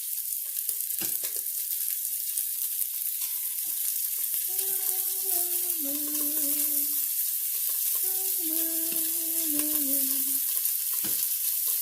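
Bratwurst searing in a domed Pampered Chef Quick Cooker gives a steady, close sizzle throughout, with a few faint clinks or tones from the cookware partway through.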